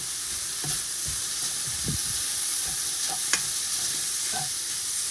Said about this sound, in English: As you can hear, it's all proper sizzling, and taco smell is all in the kitchen now.